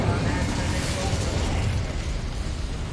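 Fiery burst from the Incendio fire spell in Hogwarts Legacy, a dense, steady roar of flame and crackle filling the whole short moment at moderate loudness.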